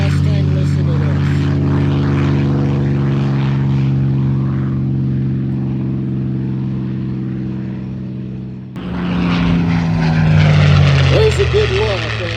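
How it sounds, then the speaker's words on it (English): P-51D Mustang warbird with a Rolls-Royce Merlin engine making an airshow flyby in Hillsboro, Oregon: a loud, steady propeller drone that swells and shifts pitch as the plane passes close, with a brief rise in roughness near the end. "There's a good look at the remarkable P51D Mustang."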